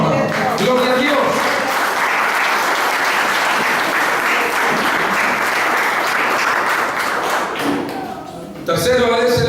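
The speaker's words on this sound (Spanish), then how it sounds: "Dale un aplauso al Señor" A church congregation applauds to praise the Lord, loud, dense clapping sustained for about eight seconds, fading briefly before a voice resumes at the end.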